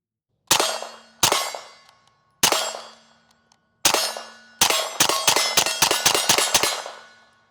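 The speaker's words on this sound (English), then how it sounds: "we've been just testing 115 range ammo" A B&T TP9 pistol with a short-stroke trigger fires 115 grain range ammo at a shooting range, heard as several sharp, spaced single shots with ringing decay, then a quick string of rapid shots.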